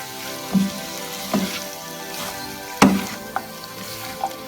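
Macaroni with chicken and vegetables is stirred in a pan, a few separate scraping and clinking strokes over a quiet sizzle, with no voices.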